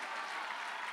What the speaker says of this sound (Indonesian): Yang sudah bermazmur, berikan tepuk tangan kepada Tuhan